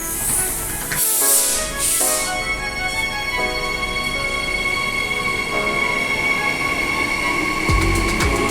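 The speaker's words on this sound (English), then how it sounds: "Here's our train, set 50." A Perth suburban electric train, set 50, pulls into a station with rumbling wheels and rising squeals on the rails, and a steady electric whine holds throughout, close and loud.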